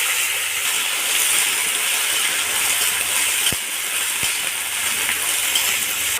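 Washed vegetables frying in a hot pan, a loud, steady sizzle heard up close, broken by two brief clicks partway through.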